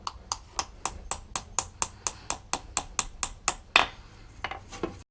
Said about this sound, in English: Time to pound a dowel into the hole.